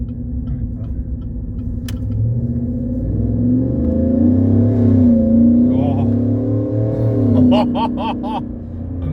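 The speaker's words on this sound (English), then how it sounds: "This is the Walkinshaw full system." A V8 pickup truck fitted with a Walkinshaw full exhaust system revs. Its deep, loud, steady drone swells and eases as the throttle rises and falls.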